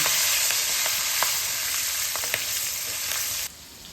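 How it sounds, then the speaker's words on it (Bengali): Black cumin seeds and slit green chillies fry in leftover oil from frying hilsa fish, giving a steady close sizzle with a few sharp crackles and pops throughout, quieting slightly near the end. "মাছ ভাজার তেলে আমি 1 চামচ কালো জিরে আর 5টা চেরা কাঁচা লঙ্কা দিয়ে একটু ভেজে নেব"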